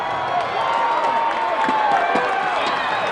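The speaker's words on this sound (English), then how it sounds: "The crowd coming alive." Crowd noise from spectators at a high school football game between the Colonials and Westford, a steady, moderately loud murmur of cheering and shouting that swells slightly without sharp peaks.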